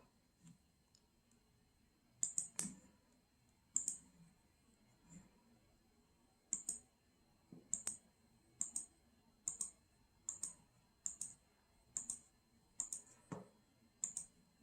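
Computer mouse clicks in a quiet room while selecting white lettering in SVG design software: sharp, close clicks, scattered at first, then a steady rhythmic run of about a dozen evenly spaced clicks.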